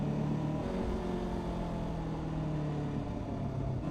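Kawasaki Ninja 500 motorcycle engine droning steadily and close during a ride, a continuous throaty hum with slight rises in revs and wind noise, no voices.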